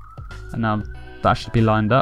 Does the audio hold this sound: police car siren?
yes